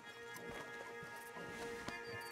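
Horses walk along at a steady pace in the Red Dead Redemption 2 video game, with repeated hoof clip-clops over a continuous outdoor ambience and no clear speech.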